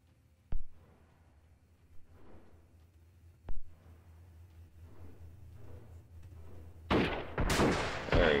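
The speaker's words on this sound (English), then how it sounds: "We're getting a couple shots to my left." Gunshots in the Freeman Guerrilla Warfare game: two sharp isolated shots ring out a few seconds apart over a low ambient rumble, followed by a loud burst of heavy firing at the end.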